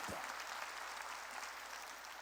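A church congregation at a Korean worship service claps together in a dense, steady burst of applause that fills the whole moment.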